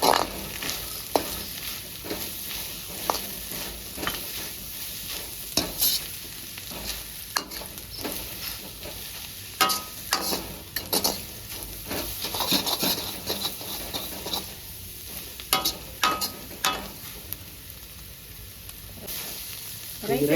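Chicken egg fried rice being stir-fried street style, with a steady hiss of frying and repeated scraping, clattering strokes of a spatula in a hot pan, loud and close throughout.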